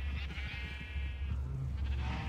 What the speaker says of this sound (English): And a buttload of cows and sheep.